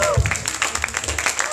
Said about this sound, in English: please give another round of applause for Kian